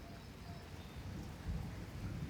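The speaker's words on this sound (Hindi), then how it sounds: "खूब पड़ रही है बारिश पर" Heavy rain pouring steadily, with low rolling thunder swelling underneath, a continuous dense hiss heard from nearby and no voices.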